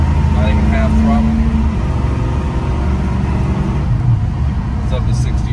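A lowered 1978 Chevrolet C10 pickup with a 383 V8 and shift kit pulls through second gear at part throttle from a stop, a steady loud engine rumble filling the cab with a voice talking over it.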